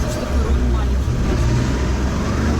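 An amphibious all-terrain vehicle with a variator gearbox crawling along in first gear through a swamp near Saint Petersburg, its engine a loud, steady low rumble throughout, with voices talking over it.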